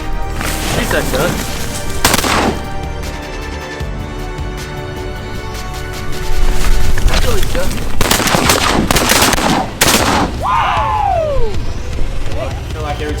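Shotguns fire repeatedly at ducks during a duck hunt, with several loud, close blasts spread across the clip, some in quick succession, while hunters talk and a duck call or bird cry sweeps in near the end.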